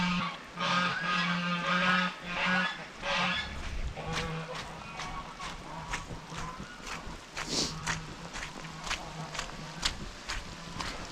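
Geese and ducks honk in steady rain on a spring homestead pasture turned waterlogged, their calls loud and repeated in the first few seconds, then scattered and fainter over the patter of rain and squelching footsteps.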